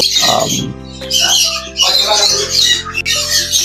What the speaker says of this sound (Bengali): এটা একটা ছেলে গ্রে পুরুষ পাখি এই পাখিটা কথা বলতে জানে